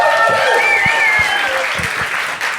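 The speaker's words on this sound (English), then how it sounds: "Big round of applause." An audience at a casting director podcast panel breaks into loud, sustained applause and cheering, a dense wash of clapping with a few voices and whoops mixed in.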